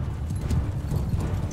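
Horse hooves gallop in the Bannerlord video game, a dense low-pitched drumming of clip-clop beats that carries steadily and loudly through the whole moment with no talk over it.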